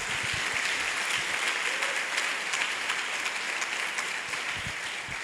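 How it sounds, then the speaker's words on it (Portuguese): Applause from a church conference audience fills the room: continuous, fairly distant clapping that holds steady for about five seconds, with faint speech barely under it. "Aplaude, irmão, merece,"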